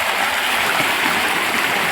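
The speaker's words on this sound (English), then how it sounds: "So this is a river, a stream." A small village river stream flows steadily close by, a constant bright rushing and gurgling wash of water with no voices over it.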